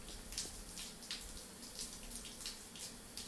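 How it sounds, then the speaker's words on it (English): A shower runs in the video game Live The Life, a steady hiss of falling water with soft splashy surges, faint and continuous with no voices. "let's go get a shower real quick"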